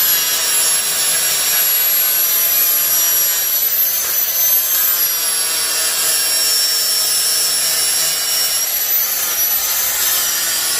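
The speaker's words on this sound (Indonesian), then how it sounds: "ini proses pemolesan tembaga" A power polisher buffs copper with green polishing compound, giving a loud, continuous high-pitched whine and rushing noise with a slowly wavering tone. It runs steadily from start to finish with no break.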